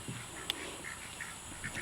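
Welsh Harlequin ducks in a backyard wire run give several soft, scattered quacks at moderate distance, faint over low background noise.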